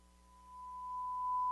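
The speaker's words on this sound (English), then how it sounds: "This is a sine wave, right?" A pure, steady sine wave tone holds a single pitch and slowly grows louder.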